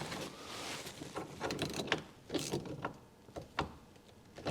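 A large bolt is tightened back into a seatbelt mount on a Speed Yellow youngtimer Porsche 911 Turbo, with close, irregular metallic clicks and ratcheting clatter and short pauses between bursts.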